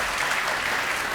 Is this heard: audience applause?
yes